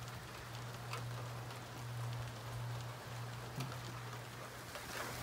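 Steady rain falls on a street and gutters, a dense, even patter that holds level throughout with a low constant hum underneath and no voices.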